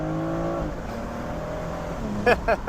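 A BMW M440i xDrive Convertible with an inline-six engine launches at full throttle from a stop, its engine note climbing and shifting through gears up close, with a short sharp burst of noise near the end.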